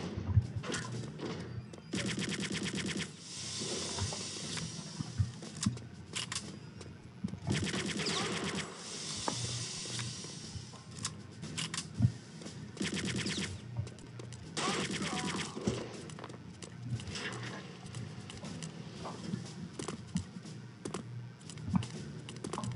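Rapid gunfire from weapons in the shooter game Return to Castle Wolfenstein, played in a secret weapons facility mission, crackles in dense, repeated bursts with short pauses over busy game sound throughout.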